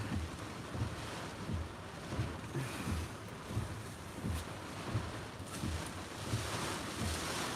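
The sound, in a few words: large waves crashing on shore in high winds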